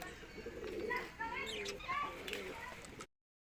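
Pigeons coo softly and repeatedly in a home loft, several overlapping throaty calls at close range with a faint background hum, ending abruptly.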